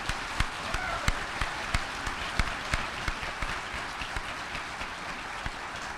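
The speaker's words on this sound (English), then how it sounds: "So please give him a round of applause." An audience applauds at a public talk on Lincoln, King and Gandhi, with steady clapping and sharp individual claps popping out at a fairly regular pace throughout.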